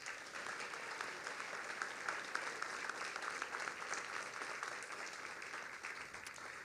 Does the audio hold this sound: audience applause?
yes